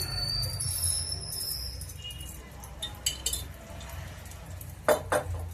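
A spoon clinks against a pan as a spoonful of ghee goes in before rice is fried, with a few bright metallic taps near the end over low kitchen hum.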